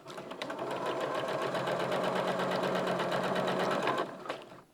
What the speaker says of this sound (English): I'm sewing this from the right side